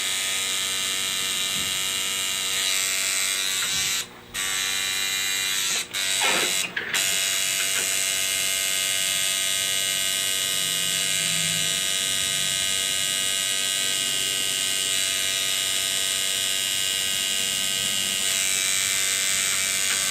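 A tattoo machine shader runs steadily throughout a hair-texture restoration and cover-up tattoo, giving a continuous close buzzing drone with a few brief dropouts near the start.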